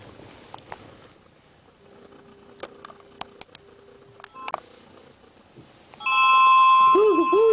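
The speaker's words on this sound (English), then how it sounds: "Ooh, the phone's ringing!" A telephone rings in a cartoon scene, a steady electronic ring that starts near the end after a few scattered beeps and clicks in a quiet room.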